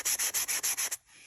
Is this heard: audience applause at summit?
no